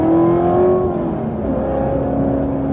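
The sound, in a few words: supercharged sports car engine whine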